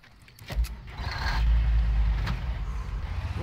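A vehicle in the video game Far Cry starts up, a thump followed by a low engine rumble that builds and holds steady.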